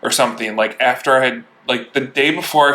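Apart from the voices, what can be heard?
No everyday noise stands out behind the speech.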